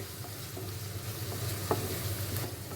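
Carrots and onions sizzle steadily in a hot pan, a close, continuous frying hiss broken by soft scraping stirs and an occasional light clink.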